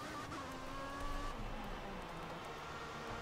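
Race car in the F1 2014 video game rolling into the pits at the Hungarian Grand Prix, a steady engine drone with a falling tonal whine, moderately loud and alone.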